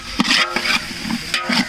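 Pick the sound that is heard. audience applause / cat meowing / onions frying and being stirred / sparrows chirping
onions frying and being stirred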